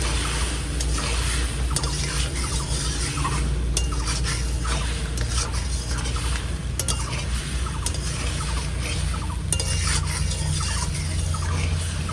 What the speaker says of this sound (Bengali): চিংড়ি মাছটা দিয়ে দিচ্ছি। নেড়ে নিচ্ছি।